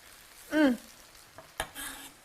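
A spoon gives paella rice a quick stir in a frying pan, a brief scraping burst followed by a couple of soft knocks against the pan over a faint sizzle.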